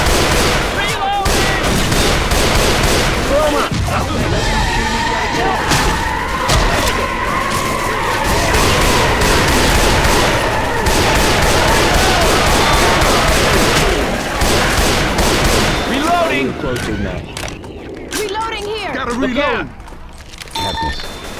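Dense video-game gunfire crackles and pops almost without pause, loud and close, with skidding and engine-like noise mixed in, while several players talk excitedly over the shooting throughout.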